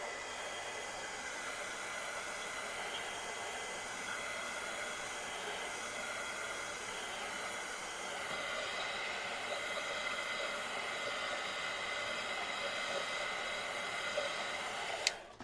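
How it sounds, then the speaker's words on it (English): An embossing heat gun blowing hot air to dry craft pieces, a steady, close electric whoosh that holds unbroken for about fifteen seconds and ends with a brief clunk. "I'm using the embossing gun instead of my heat gun, although this is a heat tool as well."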